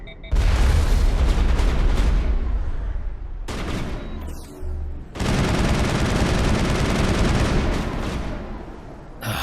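Shotgun and other gunfire in the video game Mass Effect, dense loud continuous bursts with booming blasts, one short break, then heavy firing again.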